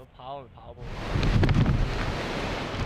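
A brief voice, then a strong gust of wind rushes in and batters the microphone with a loud, continuous roar.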